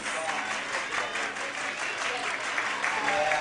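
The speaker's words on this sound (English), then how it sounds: "You hear the East fans starting to clap it up." Fans of the East team clap steadily in the stands at a 6A state championship softball game, a continuous crowd patter with faint voices mixed in.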